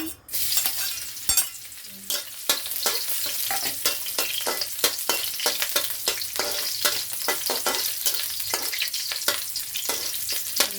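Garlic fries in a hot wok for pansit mike with shrimp, a loud close sizzle punctuated by repeated scraping stir strokes of a spatula against the metal, continuous with no talking.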